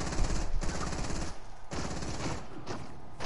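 Rapid automatic gunfire from a Fortnite match, bursts of loud, close machine-gun fire running almost continuously with short breaks between volleys.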